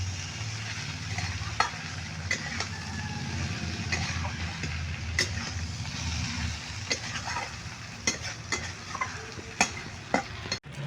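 Mourola fish curry is stirred in a pan, with a steady sizzle and frying hiss under scattered clicks and scrapes of the spoon against the pan.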